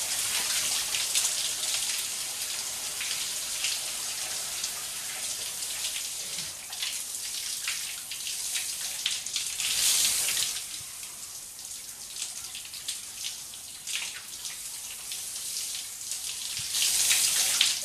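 A hotel shower in Bangkok, Thailand runs as a continuous, close hiss of spraying water that swells briefly midway and again at the end.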